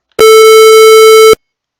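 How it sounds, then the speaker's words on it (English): A steady, buzzy 440 Hz square wave tone with a harsh, hollow timbre, sounding alone for just over a second and stopping abruptly. "Generate, Tone, Square Wave, 440 Hz, amplitude of 1"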